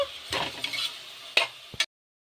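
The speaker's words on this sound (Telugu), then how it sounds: "అన్నీ కూడా ఫస్ట్ ఫ్రై చేసుకుంటున్నాను" Tomato rice ingredients fry in a pan under a brief sizzle, broken by a few sharp stirring scrapes and knocks of a utensil, then sudden silence.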